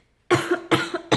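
Three quick, sharp coughs in a row from someone close by, each with a rough throaty edge.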